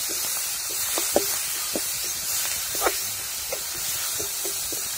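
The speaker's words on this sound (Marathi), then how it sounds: "हा मसाला आहे का मीठ मिरची लसूण ते मी याच्यात चांगलं परतून घेणार आहे" Salt, chili and garlic masala fries in a kadhai over a village wood fire, a constant airy hiss broken by scattered quiet crackles and pops, with no one speaking.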